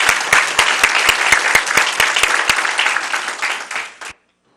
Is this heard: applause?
yes